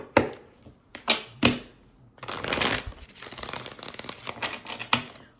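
Tarot cards are shuffled up close: a few sharp riffle snaps, then a longer papery rustling burst with more flicks, no talking.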